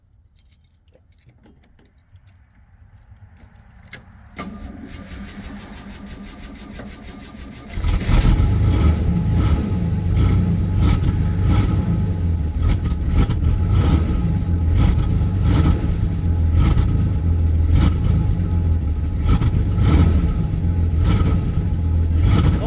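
Lowrider car engine cranks over after a jingle of keys, catches around eight seconds in and settles into a loud, steady rumbling idle with repeated revving surges, close by and alone.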